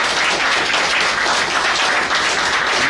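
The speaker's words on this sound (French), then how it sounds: "ça s'applaudit fort" Sustained, dense applause from an audience at an Ivorian rubber-sector producers' federation press conference, a steady loud wash of clapping with no break across the few seconds.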